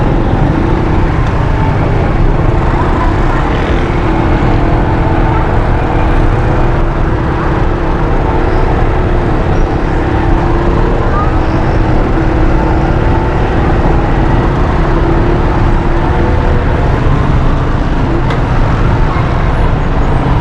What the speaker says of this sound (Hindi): तो बहुत दूर तक ट्रैफिक जाम है यार।